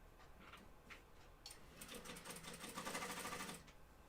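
A domestic sewing machine top stitches a seam on a flight suit, its needle whirring in a fast mechanical chatter that starts and stops in short runs, then holds a longer steady burst. The sound is quiet and close, with no talk.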